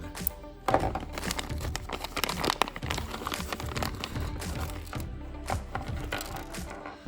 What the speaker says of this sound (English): Breaking out the pocket knife and just slicing this bad boy open